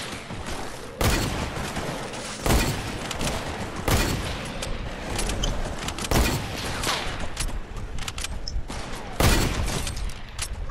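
Sniper rifle gunfire in a first-person shooter video game: a series of sharp, loud shots spaced a second or two apart over continuous game noise, with no talking.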